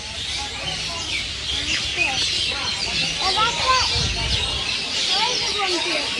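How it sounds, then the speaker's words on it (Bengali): Many birds chirp and twitter continuously, mid-distance, while people talk over the chorus. "পাখির কিচির মিচির"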